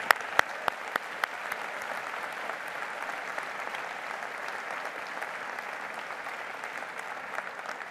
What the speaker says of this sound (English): let's give everyone again a big round of applause.